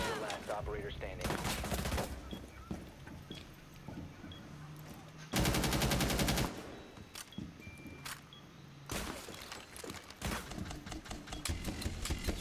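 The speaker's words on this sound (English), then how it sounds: "That Ying machine gun, I swear." Machine gun fire from operator Ying's weapon in Rainbow Six Siege rattles in repeated rapid bursts, some long and sustained, others short, separated by quieter gaps with soft voices nearby.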